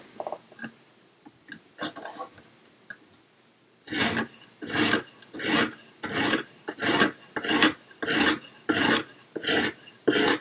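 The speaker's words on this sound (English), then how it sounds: "now that we've done our 70 grit stone, we're ready to move on to our 120. We flip the knife over" Knife blade drawn across a 120 grit stone on a Lansky sharpening system, a close, loud rasping scrape repeated in about ten even, rhythmic strokes after quieter handling noises at the start.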